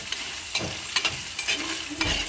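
Food frying in a pan is stirred with a utensil, giving several close scraping strokes over a steady sizzle, with no voices.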